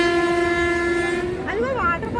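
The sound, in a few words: passenger train running, Visakhapatnam to Araku line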